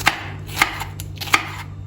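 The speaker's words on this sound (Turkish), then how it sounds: "Aynen şöyle doğrayayım." A knife strikes a cutting board about four times, crisp and close, at an unhurried, fairly even pace with no talking.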